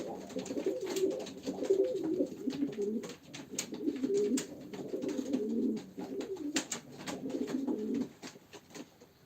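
Domestic pigeons at a bird auction coo in repeated soft, throaty phrases, close and fairly quiet, with faint clicks and rustles between calls.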